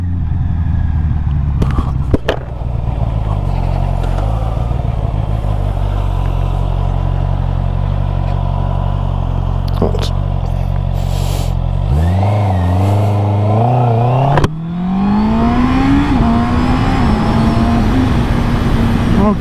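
A Honda CB650 E-Clutch motorcycle engine idles with a steady low rumble, then revs and pulls away, the pitch climbing as it accelerates close by, with a brief clunk midway.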